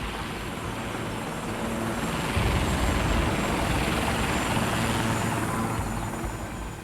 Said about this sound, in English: And the chopper started circling where we'd been.